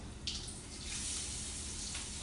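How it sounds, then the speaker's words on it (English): Soft, steady sizzling of garlic frying in a pan, a quiet hiss with a brief sharper crackle near the start and no talking. "Ooh, you hear that sizzle, honey?"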